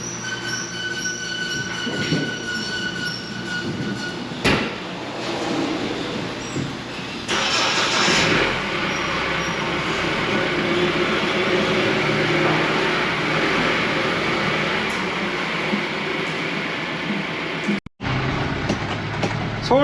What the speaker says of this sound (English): So why don't we go ahead and run this around the dooryard here.